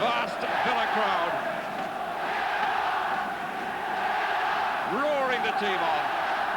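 A vast Aston Villa home crowd at a First Division match against Liverpool roars the team on, a sustained loud swell of massed voices with surging peaks, under a commentator talking throughout.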